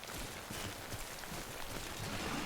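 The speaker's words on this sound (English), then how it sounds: "A little bit of rain never hurt us." Timefall rain in the video game Death Stranding: a faint, steady hiss of rainfall with soft patters throughout, alone and without talking.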